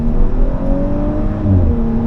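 Audi B9.5 S5 running an APR Stage 1 tune with an upgraded intercooler, its engine note loud and close, a steady droning pull with tones climbing as it accelerates.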